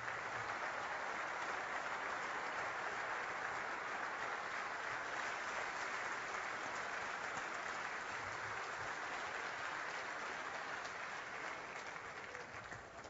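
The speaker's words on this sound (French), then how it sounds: "On vous applaudit." A hall audience applauds a miners' choir at the closing of coal mining in Merlebach, with dense, even, sustained clapping that stays steady and moderately distant throughout.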